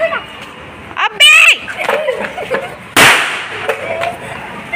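Two sharp Diwali firecracker bangs burst out nearby, about two seconds apart, amid market street noise and people chattering and shouting.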